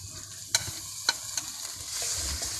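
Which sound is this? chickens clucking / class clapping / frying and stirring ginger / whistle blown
frying and stirring ginger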